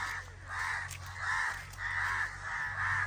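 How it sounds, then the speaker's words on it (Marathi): Crows caw beside coconut palms during a coconut harvest, giving about five harsh, evenly spaced calls close by with no voices. "कावळा आलं गड्या"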